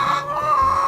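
Hens cluck softly inside a henhouse on an eco-friendly free-range egg farm, a steady close murmur of fowl sounds with no talking.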